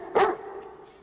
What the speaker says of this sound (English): And dogs bark.